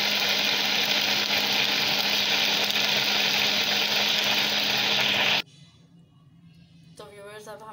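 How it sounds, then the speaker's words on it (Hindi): A loud blender whirs steadily for about five seconds blending a peach drink with water, then cuts off, leaving quiet room sound and a brief voice. "अब इसको हम अच्छी तरह ब्लेंडर ब्लेंड कर लेंगे"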